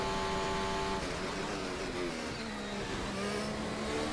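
A Formula 1 car in the F1 2025 racing game, lapping the Canadian Grand Prix circuit: a loud, continuous high-revving engine whine that holds steady and then shifts pitch as it pulls down the straight, with no talking.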